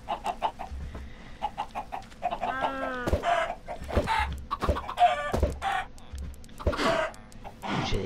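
Minecraft chickens cluck repeatedly in short, choppy bursts, with a rooster-like crow in the middle, fairly close and without any talking.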